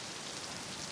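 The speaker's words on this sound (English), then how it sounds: "now it's starting to rain." Rain beginning to fall on a Paris street at night, a soft, even hiss of drops spattering the pavement, steady and fairly faint, with no voices.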